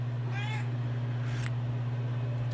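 A cat meows once inside a workshop, a short clear call over a steady, loud electrical hum, followed by a few faint thumps and shuffles.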